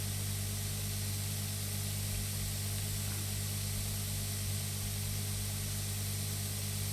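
A crop sprayer sprays steadily in the farming game Pure Farming 2018 on a cherry farm in Japan, with a constant broadband hiss layered over a low engine drone and hum, even and unbroken throughout, with no talking.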